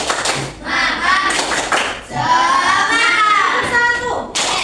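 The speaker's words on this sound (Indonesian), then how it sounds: "Tepuk semangat" Children in a primary classroom chant and clap a patterned spirit clap together, loud and close, with bursts of claps between sung lines and brief pauses.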